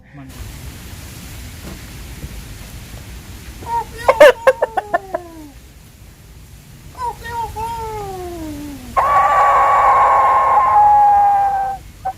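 A chicken makes a few sharp clucks and squawks in a rural kitchen setting, loud and close, with a louder sustained squawk near the end and quiet background between calls.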